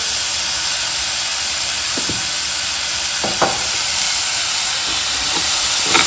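Small-chopped tomato sautéing with a little salt in a hot pan, a loud continuous sizzle and hiss with a few brief stirring scrapes near the middle and end.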